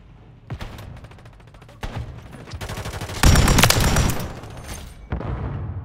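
Rapid automatic gunfire from a Pulemyot 762 machine gun in Call of Duty Modern Warfare 3 multiplayer, with crackling bursts that start and stop, swell to a loud, dense volley near the middle, then resume.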